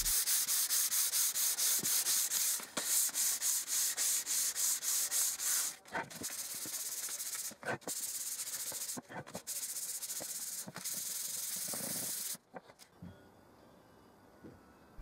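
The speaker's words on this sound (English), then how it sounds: "Then I did some hand sanding using 240, 400 and finally 600 grit." Salvaged oak end-grain butcher's block hand sanded with fine 240 to 600 grit paper: a continuous loud rasping hiss of rapid back-and-forth strokes with brief pauses, ending in a quieter stretch.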